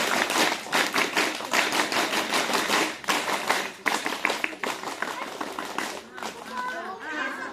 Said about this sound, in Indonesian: kalau ada yang ikut pramuka kita coba tepuk pramuka